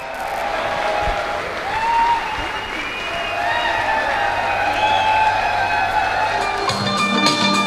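An audience at a Safe Shop motivational event claps loudly and steadily with some cheering, a thick continuous wash of applause mixed with faint background tones.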